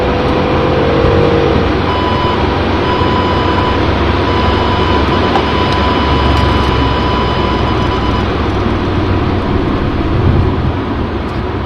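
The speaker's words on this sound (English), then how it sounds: "The alarm you're hearing is the tire pressure sensors" A thin, steady tire pressure sensor warning tone sounds over a loud, constant Audi A8 W12 6.0 engine roar at full throttle that persists throughout.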